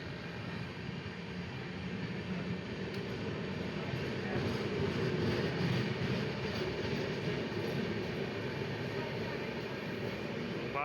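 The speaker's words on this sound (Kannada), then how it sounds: "ಡಿಪಾರ್ಟ್ ಆಗ್ತಾಯಿದೆ Belagavi Hyderabad super fast express" At Raichur station, the Belagavi–Hyderabad superfast express pulls out, making a low, steady rolling rumble at moderate distance that swells slightly midway, with a faint crowd murmur underneath.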